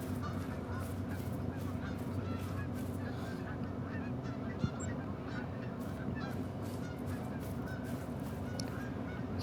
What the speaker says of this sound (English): No time to look at the geese right now that are overhead.